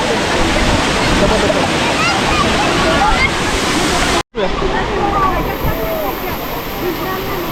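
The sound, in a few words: Kondi Waterfall flowing, Alibaug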